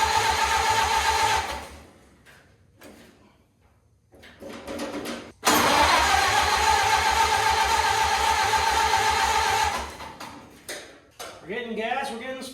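A 1928 Ford Model A engine cranks in two long churning bursts separated by a quieter pause, rhythmic and loud, with a voice speaking briefly at the end.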